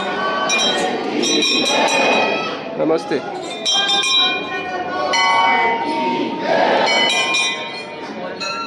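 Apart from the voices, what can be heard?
temple bells rung by people entering, India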